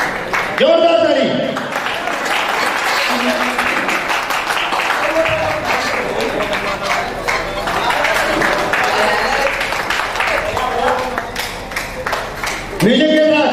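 Audience clapping at a live talk event, a sustained patter of many hands that rises and falls, mostly mixed under a loud amplified voice speaking throughout.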